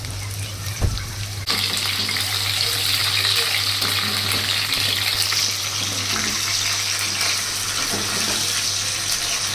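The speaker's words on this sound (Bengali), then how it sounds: "এগুলোকে আস্তে আস্তে সবকটা আমি এভাবে ফ্রাই করে নেবো" Flour-coated chicken pieces dropped into hot oil, a loud, dense sizzle that bursts up suddenly and keeps crackling steadily close by.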